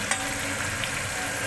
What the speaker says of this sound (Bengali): হালকা একটুখানি কিছুটা পেঁয়াজটা ভাজা হতে থাক, লাল লাল করে ভাজা করে নিই